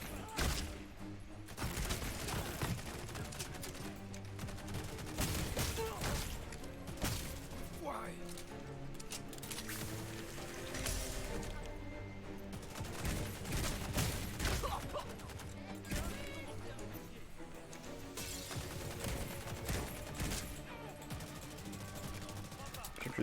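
Gunshots from a firearm in a horror video game set on an island, firing in dense bursts and volleys amid a busy, continuous game soundtrack and effects, loud and sustained throughout.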